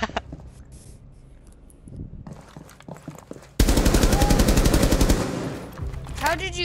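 Gunfire from the video game Rainbow Six erupts midway as a loud, rapid burst of repeated shots after quieter game sounds and footsteps, with a voice briefly audible near the end.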